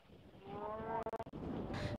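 Cattle moo at a rural African watering hole, one long, low, drawn-out bellow close by, followed by a burst of rapid clicks and some distant outdoor noise, with no talking.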